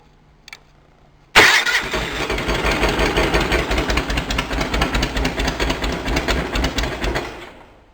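A Cub Cadet 1650 four-wheel-drive garden tractor engine cranks over after ether is sprayed into the carburetor, a loud close rhythmic churning that grinds on for several seconds after a sharp start, then cuts off without catching.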